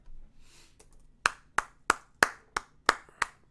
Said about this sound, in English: Let's all clap for Jeffrey.